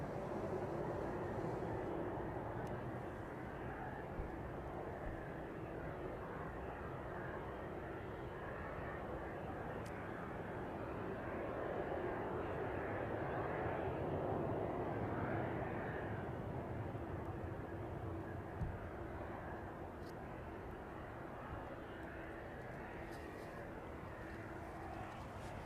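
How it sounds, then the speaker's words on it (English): Boeing 757 approaching East Midlands Airport, a steady distant jet roar that holds throughout, with faint outdoor background and no clear talk. "See in the distance if we can catch the 757 then."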